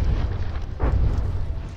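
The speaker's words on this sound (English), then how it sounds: "that one managed to get a detonation off in the middle there" A shell detonates with a single muffled boom in the From the Depths naval battle game, rising briefly out of a steady low rumble of combat noise.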